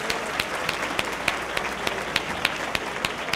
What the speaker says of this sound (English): Everyone give that group another round of applause for that outstanding work.